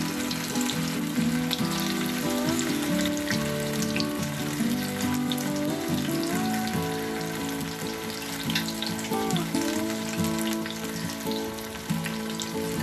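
Cauliflower florets for Gobi 65 fry in hot oil, giving a dense, steady sizzle and crackle close up that runs throughout with no voices.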